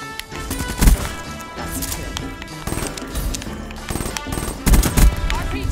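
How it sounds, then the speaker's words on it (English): Gunfire in Black Ops 3 Gun Game multiplayer comes in loud, rattling bursts of rapid shots, with heavier volleys near the start and toward the end over continuous game noise. "Don't choke those shots."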